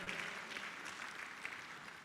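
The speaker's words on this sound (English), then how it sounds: "A round of applause for our president." Soft, steady clapping from a conference audience acknowledging the president at an award ceremony, faint and distant throughout.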